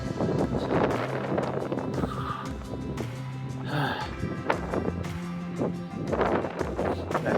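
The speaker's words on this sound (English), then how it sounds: "really windy as you can hear." Strong, cold wind at sunrise on a mountain road up Mount Lemmon, Arizona, roaring steadily across the microphone with constant low buffeting, while someone speaks intermittently over it.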